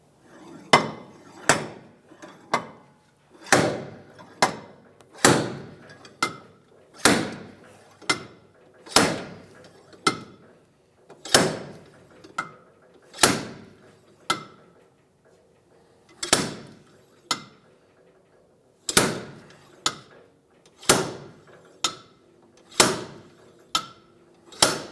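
Hub puller bolted to the wheel studs, working a rear wheel hub loose on a 2003-2011 Honda Element: about twenty sharp metallic knocks at uneven intervals, close and loud, with quiet gaps between blows.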